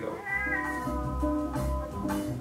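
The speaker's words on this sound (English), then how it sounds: "That's my cat." A cat meows a few times in a drawn-out, slightly wailing voice, close by, with no talking.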